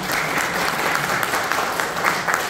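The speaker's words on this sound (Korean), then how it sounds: "다시 우리 네 분에게 큰 박수 주십시오." Steady, dense applause from a seated audience at a Korean knowledge forum, continuous and fairly close for the whole stretch.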